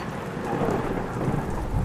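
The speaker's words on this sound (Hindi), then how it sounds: "इस मार्च के ठंडी मौसम में बारिश की क्या जरूरत है भला, समझ नहीं आता।" Steady rain with rolling thunder on a cold March night, a continuous dense wash of rainfall with low rumbling throughout, no voices.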